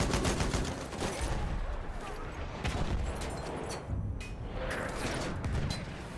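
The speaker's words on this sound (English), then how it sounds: "Enemy machine gun." Video game battle: an enemy machine gun fires in long, rapid bursts amid dense, constant combat noise and other gunfire, with a voice faintly audible in the mix.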